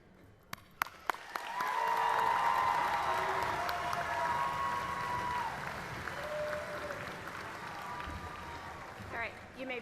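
Sustained applause from a commencement audience at Missouri Western State University fills a large hall, swelling quickly after a few isolated claps and holding steady, with a voice speaking faintly over parts of it.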